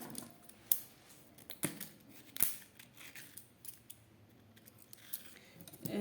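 Scissors snip through craft material being cut into pieces for making flowers to decorate pens, several sharp close cuts spaced irregularly over quiet room tone.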